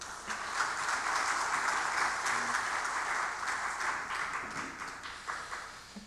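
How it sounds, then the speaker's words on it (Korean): A church congregation applauds steadily at a Korean worship service as the pastor is welcomed, a dense, sustained clapping that slowly tapers off toward the end. "우리 박성규 목사님 박수로 모시겠습니다"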